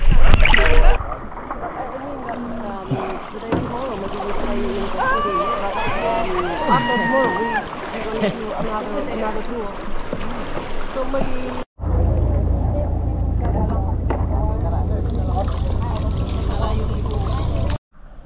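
Boat sounds on the water among limestone cliffs in Coron, Palawan, with a strong low rumble of motion and wind, louder in the second half, while people talk over it.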